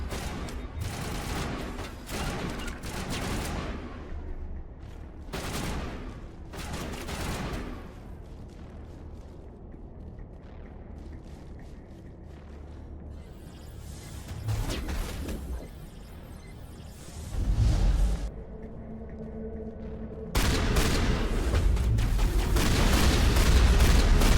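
Shotgun fire in Mass Effect amid a busy firefight: repeated heavy blasts and booms over a steady roar of combat, with a loud sustained burst near the end.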